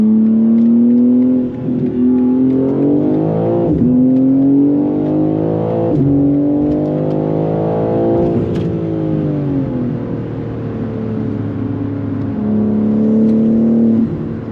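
A BMW G80 M3 accelerates hard, its engine revving up through several gears with a loud rising drone and brief dips at each shift, heard from inside the car with no talk.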